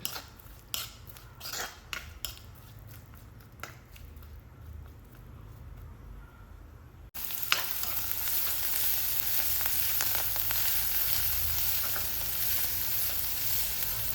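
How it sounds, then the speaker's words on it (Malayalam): Small shallots sautéing in coconut oil for a prawn roast, a steady loud sizzle that jumps sharply louder halfway through as the onions hit the pan, with occasional stirring clinks before it. "ഇനി ഇതിലേക്ക് കുറച്ച് കൂടുതലായിട്ട് തന്നെ ചെറിയ ഉള്ളി കട്ട് ചെയ്തുകൊണ്ട് ചേർത്ത് കൊടുക്കാം എന്നിട്ട് നന്നായിട്ട് തന്നെ ഒന്ന് വഴറ്റിയിട്ടെടുക്കണം"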